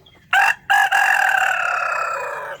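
A rooster crows loudly and close inside a homestead chicken house, two short bursts followed by a long drawn-out call that gradually fades.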